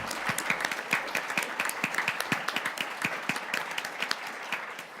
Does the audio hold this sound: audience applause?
yes